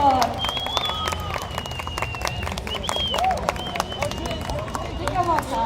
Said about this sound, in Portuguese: Por favor, uma salva de palmas para o Borghetti